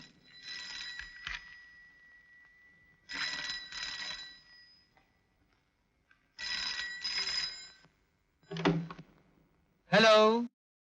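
Telephone bell ringing in a home, in short repeated bursts of a few seconds each with quiet gaps between them, fairly loud and close, ending with a brief voice.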